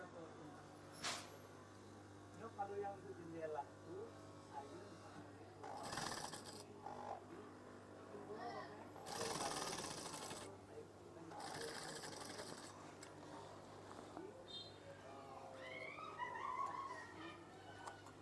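A sewing machine stitches a curtain in rapid mechanical bursts, starting and stopping between quieter stretches, with a person talking softly in the background.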